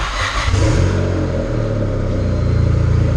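A boosted car engine revs briefly and then settles into a steady, even idle, loud and close with no voices over it.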